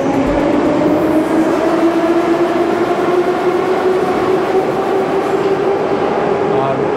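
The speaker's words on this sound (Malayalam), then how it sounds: "അതിവേഗതയിലാണ് ട്രെയിന് പോകുന്നത്. അതിൻ്റെ ശബ്ദം തന്നെ ഭയങ്കര ശബ്ദമാണ്." A Moscow underground metro train races at high speed through a station deep below the city, producing a loud, unbroken rumbling roar with a sustained whining tone that shifts slightly in pitch.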